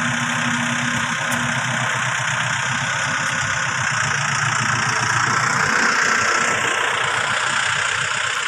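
A Yanmar YM357A tractor engine idles steadily and rumbles continuously up close, with a low chugging knock running underneath throughout and no talking.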